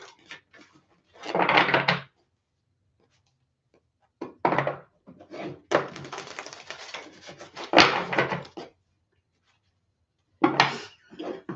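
Tarot cards being shuffled by hand, heard as several separate bursts of riffling and card slaps with short pauses between them, close and fairly loud, no talking.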